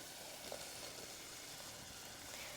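Sliced capsicums fry in an open pan with a soft, continuous sizzle and hiss that stays faint and even throughout, with no voices.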